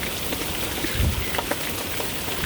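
Rain falls steadily as a dense, even hiss of drops on surfaces, with a few louder splatters standing out and no voices.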